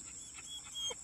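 A few soft, scattered clucking calls from wild turkeys in the woods, fairly faint against a steady high-pitched background hiss of insects or wind.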